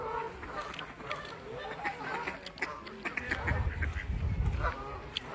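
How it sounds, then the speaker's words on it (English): Ducks and ducklings on a farm pond in Northampton, England, with repeated nearby quacks and honking calls scattered throughout, some overlapping, against a soft outdoor background. "And we've got ducks and ducklings."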